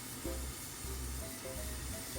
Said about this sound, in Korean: 지금 약간 보글보글 끓는데요, 가장자리가.